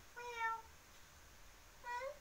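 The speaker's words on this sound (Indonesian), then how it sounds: "Iya gitu suaranya kucing." A cat meows twice, two short rising-and-falling cries a bit more than a second apart, fairly clear and moderately close against a quiet background.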